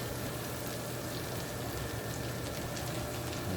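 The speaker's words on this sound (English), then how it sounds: "saute the onion until golden brown, or until the aroma come out" Chopped onion sizzles in melted butter in a pan, a dense, even hiss with fine crackle that holds steady and close throughout, no voices.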